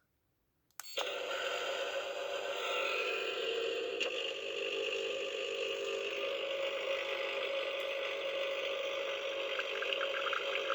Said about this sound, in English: And then dripping sounds.